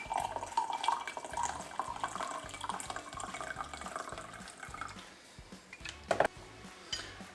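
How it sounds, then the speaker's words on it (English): Warm water poured into a cup of Vietnamese coffee to dilute it, a steady close trickle of liquid that thins out and ends with a few clinks and drips. "you can just take this water, which is still warm, dilute it to taste"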